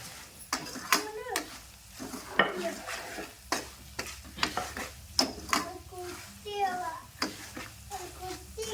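Peanuts, curry leaves and garlic fry in hot oil while a spoon stirs and scrapes the pan in uneven bursts, with a steady sizzle underneath and a voice talking over it.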